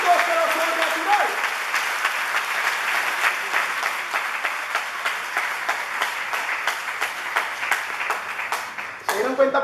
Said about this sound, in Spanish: Entonces pon un aplauso fuerte a Dios